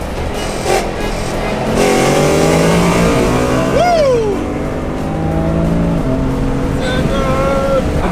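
A BMW M3 E90 accelerates hard in an informal street race, its engine note rising in clear stepped pitch sweeps with a brief high whine, loud and close over steady road noise.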